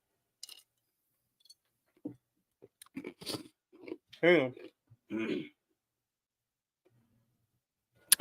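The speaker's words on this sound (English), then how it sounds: "Sorry, chewing ice on mic again." Ice cubes crunch and crack between teeth right up against a microphone, a string of sharp, close bites and grinding chews scattered over several seconds in an otherwise quiet room.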